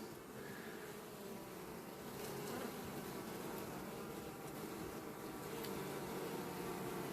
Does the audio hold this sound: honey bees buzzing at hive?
yes